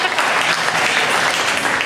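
Dense, steady audience applause at a church worship service, many hands clapping close together at an even level throughout with no pauses.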